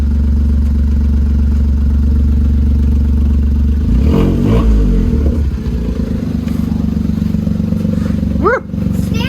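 A freshly installed engine in a 2008 Smart ForTwo runs loud and steady, then revs hard around the middle with rising and falling throttle blips before settling back to a steady idle near the end.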